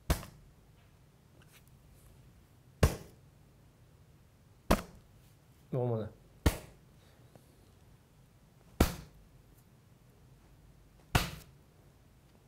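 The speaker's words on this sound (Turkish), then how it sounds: "Çiğ etten çok güzel tokat ve yumruk sesleri çıkartıyor." Raw meat is struck by hand to make slap sound effects for fight scenes: sharp, loud, close smacks spaced a few seconds apart over quiet room tone, with one brief spoken word between hits.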